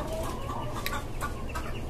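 Brooding hens sitting on eggs in a rooftop chicken farm give soft clucks and a few short, sharper calls over a steady low background hum.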